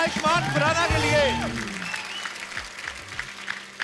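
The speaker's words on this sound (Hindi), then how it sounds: "जोरदार तालियां एक बार आयुष्मान खुराना के लिए" Studio audience applause on The Kapil Sharma Show, a Hindi TV comedy show, swelling as an actor is welcomed, with music and whoops over it at first, then thinning to scattered clapping.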